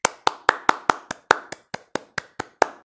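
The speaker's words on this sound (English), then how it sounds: "let us take this moment to clap hands for the ZoomNotes team" A single person's hands clap about a dozen times in a quick, even rhythm, each sharp slap distinct, close to the listener and heard alone.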